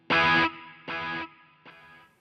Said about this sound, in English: How about the large plate reverb?